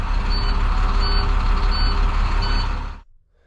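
A large bus backs into place with its reversing alarm beeping four times in a steady rhythm over a loud, rumbling diesel engine, and the engine noise cuts off abruptly near the end.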